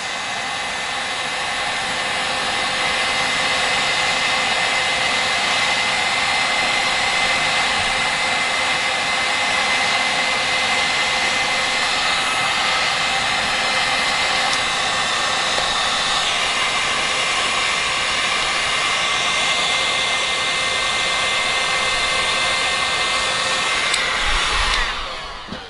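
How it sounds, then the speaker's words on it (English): Heat gun blowing a steady, loud stream of hot air to strip a thick finish off a Japanese-made Stratocaster guitar body, a continuous hiss and whir that runs without a break for the whole stretch. "So the heat gun pulls this off really nice."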